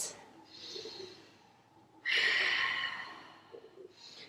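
Slow, deep breaths during a yoga lizard pose in a hatha flow: a soft sighing exhale, a pause, then a louder, fuller breath that rushes in and trails off, close and quiet with no talking.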